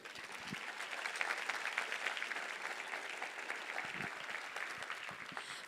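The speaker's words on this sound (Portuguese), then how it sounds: "Você pode aplaudir ao Senhor por isso?" A church congregation claps together at a worship service, a dense, steady patter of hands that sounds somewhat distant and soft, continuing without a break and with no voices on top.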